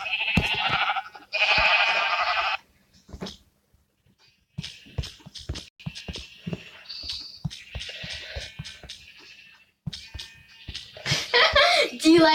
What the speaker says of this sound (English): Do you like the beautiful singing of the sheep?